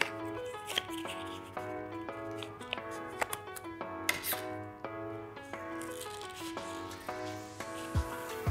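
Scissors snipping through paper to cut out small puppet feet, quick soft irregular cuts heard alone over faint background music.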